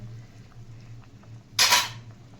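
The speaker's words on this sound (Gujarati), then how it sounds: "આપણે એને હલાવી નાખીશું" A spoon stirring whole onion curry in a pan over a low gas flame, one brief metallic scrape standing out near the end over a quiet low hum.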